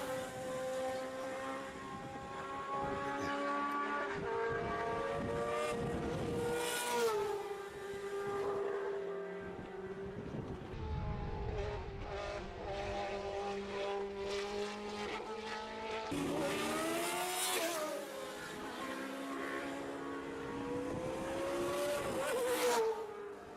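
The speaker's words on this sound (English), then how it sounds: "the rasp of the DFV engine, you hear it now" Cosworth DFV racing engines rasp and wail as several classic racing cars pass nearby at Estoril, revving up and down in a continuous harsh howl with occasional louder surges.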